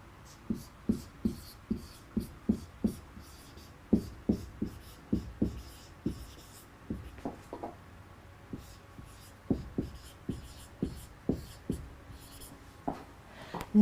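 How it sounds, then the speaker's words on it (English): Marker or chalk strokes on a board during an English vocabulary lesson: a steady series of short, close scratching taps in irregular bursts, with no talk over them. "I'm writing it over here."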